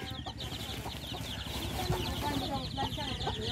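Dual-purpose chickens cluck repeatedly at close range, with ducks nearby, scattered short calls over a busy farmyard background and some voices mixed in.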